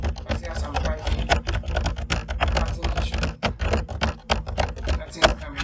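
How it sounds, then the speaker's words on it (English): Fast, continuous clicking of computer keyboard keys close to the mic, dense and steady throughout with occasional harder taps. "I see as I'm typing,"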